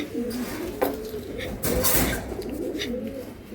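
Giribaz pigeons coo softly in a loft, with repeated low, rolling coos close by. Someone speaks over them in places, and a few brief handling knocks break in.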